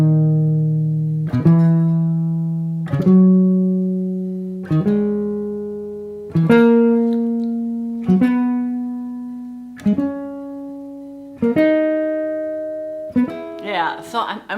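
Plucked guitar notes step up a scale one at a time in a short-long rhythm, each note ringing and decaying before the next, played slowly and close as scale and fretboard-note practice, with a brief rattle of strings at the end.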